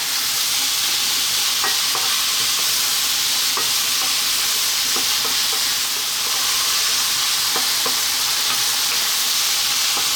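Chicken and bamboo shoots stir-fry in oyster sauce over high heat, a steady loud sizzle and hiss of steam broken by scattered scraping clinks of the spatula.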